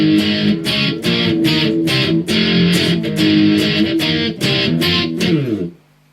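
Distorted electric guitar plays a bridge as a run of loud chugging strummed chords with rhythmic gaps, ending on a sustained ringing chord that fades out; no voices.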